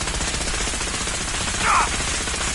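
Gunfire from the video game Fallout 4 sounds as dense, continuous automatic shooting that fills the whole stretch, loud and steady, with a brief brighter burst midway.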